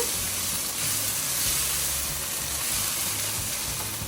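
Ground beef and tomato pasta sauce sizzles steadily in a pan, a constant close hiss and bubble with no pauses and no talking.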